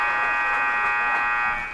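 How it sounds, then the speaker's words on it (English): End-of-third-quarter buzzer at a girls' high school basketball game at St. Pius, a loud, steady electronic tone sounding continuously for nearly two seconds. "the buzzer sounds"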